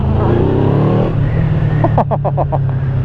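A 200 hp Yamaha V-Max motorcycle accelerates hard in a loud, close engine drone, the pitch shifting partway through as a rapid burst of sharp ticks cuts in near the end.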